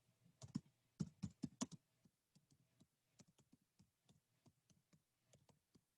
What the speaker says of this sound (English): I'm typing in maple seed helicopters